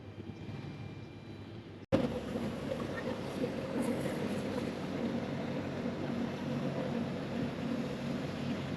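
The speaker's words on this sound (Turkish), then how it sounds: "gezi tekneleri." Steady low rumble of a tour boat engine on open water in Putrajaya, Malaysia, with wind and water noise running continuously after a brief break.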